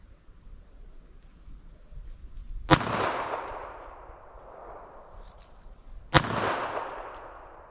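Two sharp .380 ACP pistol shots about three and a half seconds apart, each a loud crack with a long rolling echo that trails off slowly.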